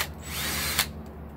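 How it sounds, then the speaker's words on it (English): A power drill pre-drills holes in a frame for a flexible solar panel, one continuous close whine running just over a second and ending in a brief louder bite before cutting off. "I'm pre-drilling these holes."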